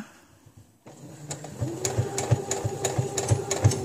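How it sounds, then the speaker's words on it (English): A sewing machine backstitches while making a pad: after a quiet moment the motor starts and needle strokes thump in a quick, close, regular rhythm with no speech. "I'm going to backstitch again, 3 or 4 or 5."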